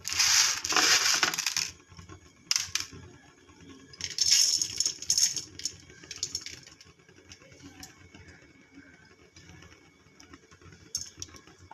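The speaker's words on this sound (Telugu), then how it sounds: "కందిపప్పు వేసుకుంటున్నాను" Toor dal poured into a pan, a dense rattling patter of dry lentils in a couple of loud bursts, followed by lighter scattered clicks and quieter stretches, with no voices.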